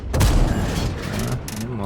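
A tank cannon fires in a tank video game, a loud boom at the start followed by rumbling reverberation and mechanical clanks, with someone talking over it.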